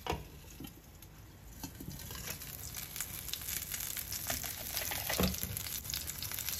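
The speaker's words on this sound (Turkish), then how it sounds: "Yağ çok güzel ısındıktan sonra balığı yerleştirdim. Şimdi sadece 2-3 dakika kadar pişirmek yeterlidir." Salmon fries in a pan of hot oil, giving a quiet, continuous sizzle and crackle with light pops throughout.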